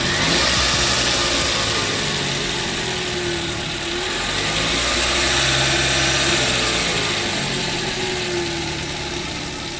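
Toyota Alphard Hybrid Executive Lounge powered on with its engine running: a loud, steady, mid-pitched idle that swells slightly as if revving, then settles, with no talking.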